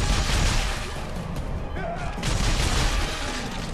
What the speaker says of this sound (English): Probe gun can be very effective sometimes, overly effective.